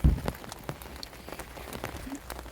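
Rain patters steadily on surfaces around a 1996 Geo Tracker during an outdoor wheel bearing and brake job, with scattered close drips and splashes over a continuous wet hiss.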